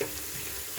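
Onions cooking in a pan for pilau beef give a brief, steady, quiet sizzle with no voices.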